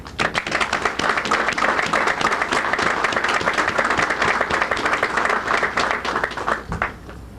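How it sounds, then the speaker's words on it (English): An audience at a Coast Guard appreciation event in Port Huron gives steady, dense applause that stays loud and continuous before tapering off at the end. "Would you please join me in a round of applause for the committee?"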